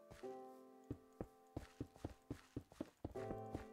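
A horse's hooves clip-clop in the Minecraft video game, a string of crisp, irregular hoof taps with sharp, close attacks over a faint tonal background.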